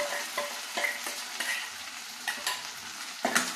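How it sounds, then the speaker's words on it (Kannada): Ground masala paste frying in a pan for majjige huli, a broad sizzle with repeated stirring scrapes and clicks at an uneven rhythm, close and fairly loud, with no voices. "ಒಂದು 2 ಮಿನಿಟ್ಸು ಫ್ರೈ ಮಾಡ್ಕೋಬೇಕು"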